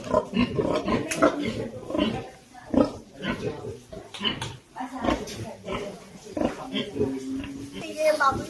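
Pig grunts and snorts on a farm, repeated through the clip close to the microphone, mixed with people talking nearby.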